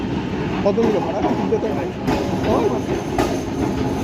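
A Kolkata tram runs on its rails near Dharmatala, giving a loud, continuous rumble with rhythmic clattering and wheel noise from on board, while people talk over it.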